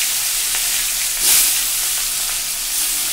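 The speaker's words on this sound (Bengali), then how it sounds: "ছেড়ে দিলাম সরষের তেল দিয়ে মাছ।" Hilsa fish pieces rubbed with turmeric and salt hiss in hot mustard oil in a kadai, a steady close sizzle with a brief louder spit partway through.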